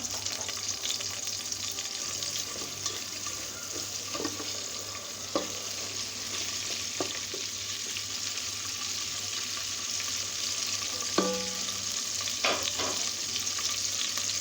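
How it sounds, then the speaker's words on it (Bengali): Biryani ingredients fry in a pan with a steady, moderately loud sizzle throughout, broken by occasional scraping and clinking strokes of stirring. "ভাজা ভাজা করে নেব।"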